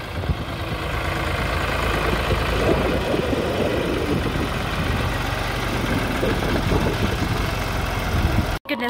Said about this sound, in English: Thank goodness they didn't die running behind Dave in that giant tractor